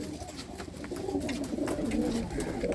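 Domestic pigeons at a loft near Anandpur Sahib, soft repeated cooing close by, low burbling calls overlapping in quick succession without talk.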